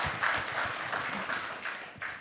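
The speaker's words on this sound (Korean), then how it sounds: "한 번 더 여러분 뜨거운 박수 부탁드리겠습니다." Warm applause from an audience of Vietnam War veterans and bereaved families at a talk concert, a steady wash of many hands clapping at moderate volume with a few louder bursts.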